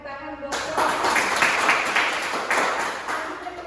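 Classmates clap for a group after its presentation in an Indonesian agricultural-machinery lesson. The applause is a dense, steady patter that bursts in after a brief quiet moment and carries on evenly to the end.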